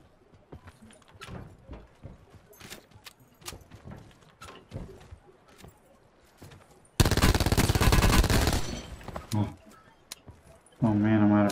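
Gunfire in Black Ops 4 Blackout: scattered single shots and footsteps give way to a loud, dense burst of rapid automatic fire, then a second heavy burst near the end, with talk around the shots.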